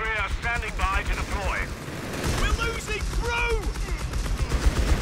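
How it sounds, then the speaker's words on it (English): MP40 submachine guns firing in a Company of Heroes 3 battle, sharp rapid bursts repeating through a busy mix of game noise and under continuous voices. "the MP40s on the crew start shooting even though it's in ambush mode"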